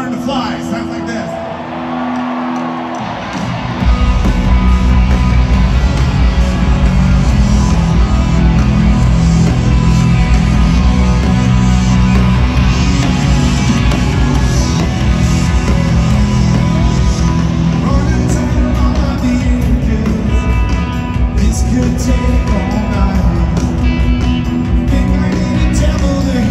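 A band performing live at a tribute concert, a full band with drums, bass and guitars kicking in loudly after a few quiet seconds and playing on continuously with dense, sustained energy.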